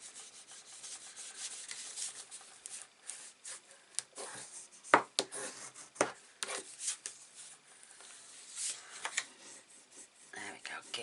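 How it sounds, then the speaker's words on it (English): Paper is burnished down onto a scrapbook album page, giving soft, close rubbing and scraping strokes in irregular bursts with brief sharper scuffs. "Give that a good burnish all round."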